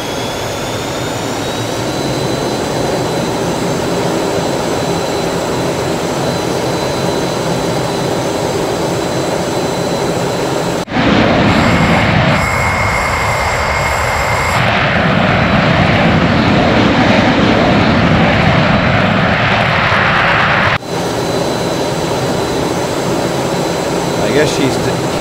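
The Bell X-1A rocket plane roars in Microsoft Flight Simulator 2020, a steady engine drone that swells louder for about ten seconds midway, with someone talking over it.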